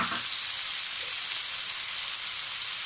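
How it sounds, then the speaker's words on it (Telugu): Chopped ivy gourd and onion frying in a pan, a steady bright sizzle and hiss that holds evenly throughout, close and unbroken, with no talk. "ఇందులో సన్నగా తరిగి పెట్టుకున్న దొండకాయ ముక్కల్ని వేసేసుకోవాలి"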